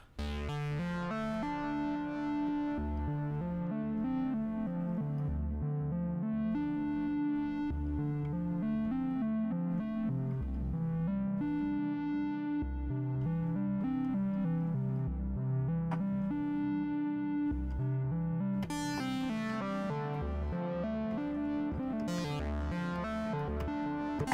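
Moog Slim Phatty analog synthesizer melody with sustained, reverberant tones and a steady pulsing bass line playing continuously, no voices.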